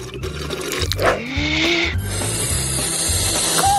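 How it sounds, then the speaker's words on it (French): Bubbles blown through liquid gurgle and bubble steadily for several seconds, fairly close, with a brief squeaky slide and a rising tone in the middle and no talking. "Je vais faire des bulles."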